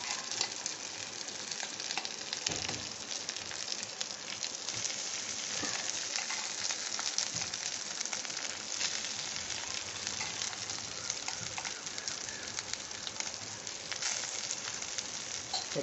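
Rice frying in butter and garlic in a pan over lowered heat, a dense, steady, close sizzle that crackles evenly throughout with no voices.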